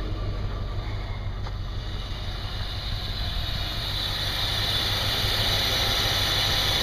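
Steady low engine idle from a Starsky & Hutch limited edition barn-find car burning some oil, a constant rumbling drone with airy hiss over it, even and uninterrupted with no talking.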